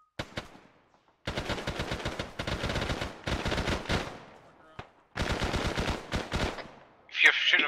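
Bursts of automatic gunfire in a military video game operation, several long rapid-fire volleys separated by short pauses, loud and close, with a sharp click near the end.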